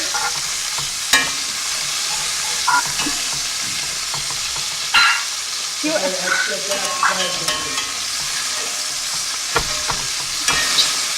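Beef chunks for stew searing in a pan on a stovetop burner, with a steady close hiss of sizzling fat and occasional scraping and clinks as the pieces are turned.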